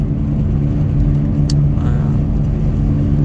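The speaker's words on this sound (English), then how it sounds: "now I keep driving to work." Steady, loud engine rumble of a car driving along a road in Iceland, a continuous low drone with no talk and a brief faint tick near the middle.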